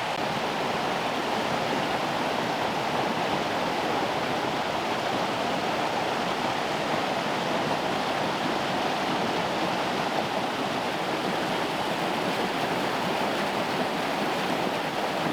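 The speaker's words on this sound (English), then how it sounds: "There's a bridge going over and some little cascades coming down." Small waterfall cascades tumbling down a river beneath a bridge at Nant Mill in North Wales, a steady broad rushing roar that holds unbroken and fairly loud with no voices.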